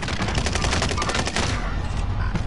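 Rapid automatic gunfire in the online shooter Call of Duty: Warzone, a dense burst of overlapping shots that thins out after a second and a half, leaving scattered softer reports.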